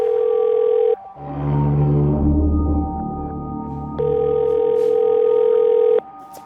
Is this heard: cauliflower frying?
no